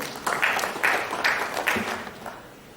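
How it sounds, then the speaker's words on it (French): Applause at a doctoral thesis defense, a small audience clapping in a few rhythmic bursts that swell and then fade out toward the end. "Pour vos applaudissements, si c'est possible."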